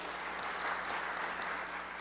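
An audience at a technical conference session applauds in a brief, even wash of clapping, faint and distant, with no speech over it.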